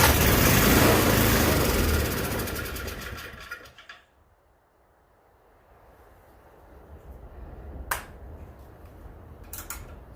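A Toro 421 small engine with a carburetor needing cleaning roars loudly at high throttle for about four seconds, then cuts out, leaving a quiet tail broken by a few short clicks.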